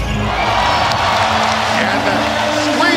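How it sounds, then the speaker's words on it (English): Arena crowd at a Hong Kong Eastern versus San Miguel Alab ASEAN Basketball League game, steady loud roar of cheering and screaming filling the whole moment, with commentary voices running underneath. "And the screams of the crowd says it all."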